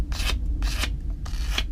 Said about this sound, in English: The rest I'll do on the face with sandpaper.